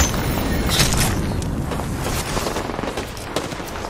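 Gunfire in a battle royale tournament match, with booming shots and rapid bursts layered over steady game noise, loud and continuous without clear pauses, no speech over it.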